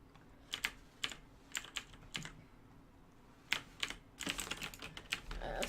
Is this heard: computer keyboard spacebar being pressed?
yes